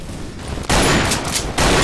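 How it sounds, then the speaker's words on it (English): Gunfire from the video game Double Action: Boogaloo, a free Half-Life 2 mod, comes as loud, close bursts. Two sharp volleys break in over a quieter background. "I can hear a fucking gunshot all the time"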